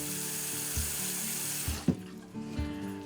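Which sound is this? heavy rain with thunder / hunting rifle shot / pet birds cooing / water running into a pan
water running into a pan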